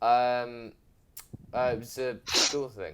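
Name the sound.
sneeze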